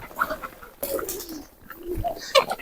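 Domestic pigeons coo in soft, throaty bursts close by during morning feeding, with several overlapping calls and some background noise.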